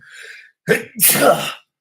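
A single loud, close sneeze with a short breathy intake leading into a sharp burst, heard on its own with no talk.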